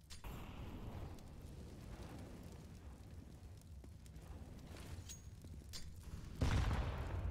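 Grenade explosions in CS:GO on the Inferno map during a Complexity vs. Fnatic ESL One match, a low rumbling blast texture with scattered pops and a louder boom near the end, fairly faint overall.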